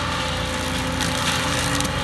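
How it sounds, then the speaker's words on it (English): A mower plows through thick brush while overgrown land is reclaimed, its engine a steady, loud, close drone with a rough, grinding edge that holds throughout. "mowing through that stuff like it's nothing"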